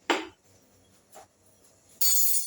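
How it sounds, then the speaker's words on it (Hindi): A metal kadhai clanks onto a home kitchen stove while green chilli sabzi is being prepared: a sharp clattering hit at the start, a small knock, then a bright sustained metallic scrape or hiss near the end, heard close with no talk. "ये मेरी कढ़ाई चढ़ गई है।"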